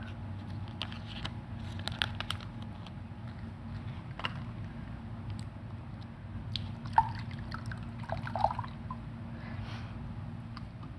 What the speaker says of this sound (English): you open it up and drain the water off.